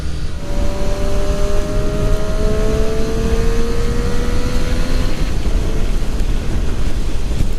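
A 2018 Triumph Street Triple RS naked motorcycle on the move, its engine droning steadily with slowly rising pitch under heavy, constant wind buffeting across the microphone throughout.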